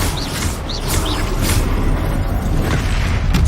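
The Flipendo spell fires in the video game Hogwarts Legacy as a loud, whooshing magical burst with a booming impact, accompanied by a few short chirping effects at the start and a sustained roar after.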